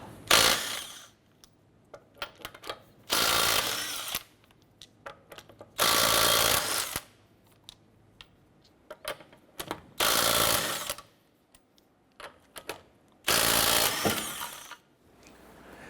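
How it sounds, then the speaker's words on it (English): Lug nuts being removed with a 19mm socket on an impact tool from the front wheel of a 2008-2012 Honda Accord. There are five loud whirring bursts of about one to one and a half seconds each, spaced apart, with quieter clicks and handling noise between them. "Using a 19mm socket, let's go ahead and remove our lug nuts."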